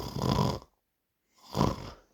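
A voice imitates a woman snoring: two long, loud rasping snore breaths separated by a silent pause, close up and without talk, in a French comedy sketch.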